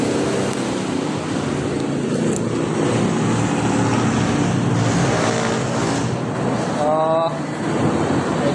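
A Honda Click 125i v2 scooter, freshly tuned with a cleaned throttle body, runs at a steady idle, its exhaust droning close and constant while a faint voice speaks briefly in the background.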